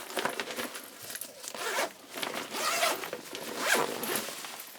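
The zipper on the main compartment of a Thule Landmark 40-litre backpack is pulled open in several quick, close rasping strokes, with brief pauses between pulls.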